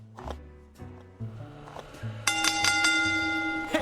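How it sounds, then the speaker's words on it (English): A closing bell rings in the Parcel Simulator video game at the end of the working day, a bright sustained chime that rises clearly over lower tonal game sounds partway through. "look at that closing bell"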